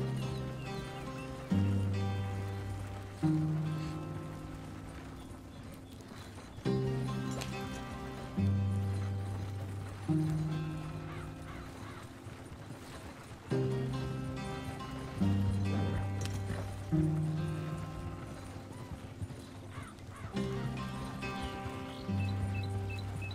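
Horse hooves clip-clopping in Red Dead Redemption 2 as a rider travels between places, a steady rhythmic gait under a repeating musical score, moderately loud with no talk.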